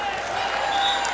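Volleyball crowd at a 1986 NCAA women's championship match against Nebraska, a steady roar of cheering and yelling with scattered applause, loud and continuous throughout.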